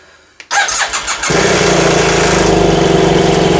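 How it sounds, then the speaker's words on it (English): A BMW F800GS motorcycle engine, just repaired after a fuel pump replacement, cranks briefly and catches, then settles into a loud, steady close-up idle with no talking. "Bike runs."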